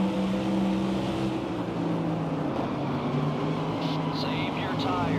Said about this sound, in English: I can hear the cars around me